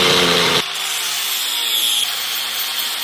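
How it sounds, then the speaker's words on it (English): An angle grinder cuts a notch in a steel frame tube for a drift trike, starting with a loud, gritty cutting burst that drops into the disc's steady high spinning whine before stopping abruptly. "I'm just going to cut this out with the angle grinder"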